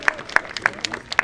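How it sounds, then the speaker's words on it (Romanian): Applause at a hunting expo in Bacau: a brief spatter of scattered claps from a small crowd, fairly close, with faint talk behind it. "Aplauze pentru această rasă."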